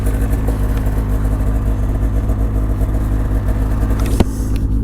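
A 2006 Ski-doo Renegade 600 SDI snowmobile engine idles with a steady, loud, low rumble and even tone throughout, with a brief knock near the end.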